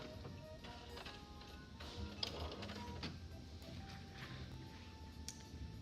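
A home sewing machine back stitches a seam on a New Look D0815 garment, a steady rapid mechanical ticking and whirring close by, running continuously for several seconds.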